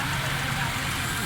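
A Suzuki Cultus three-cylinder car engine running steadily after piston and ring replacement, a close, continuous mid-pitched hum and rumble with a faint voice underneath.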